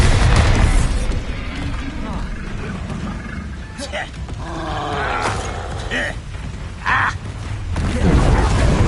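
Bombarda, the explosive spell in Hogwarts Legacy, goes off in booming, rumbling blasts with roar-like bursts and crackling debris, loud and heavy at the start and again at the end, with brief sharper pops in between.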